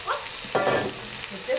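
Beef chunks for Brazilian pot roast hit a hot pot seasoned with colorau, giving a brief burst of sizzling and stirring at moderate loudness, with no talking.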